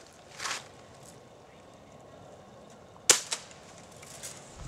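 BB gun fired at a squirrel nest in the trees outdoors: a sharp, loud snap near the three-second mark with a quick follow-up crack, after a softer earlier pop, all over quiet ambient background.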